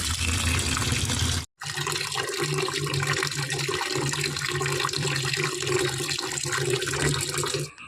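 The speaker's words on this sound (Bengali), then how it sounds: "আমগুলোকে আমি ভালো করে কিন্তু পরিষ্কার করে ধুয়ে নেব" Raw mangoes are washed under running water, a loud, steady gush and splash from a tap that breaks off briefly once and then resumes.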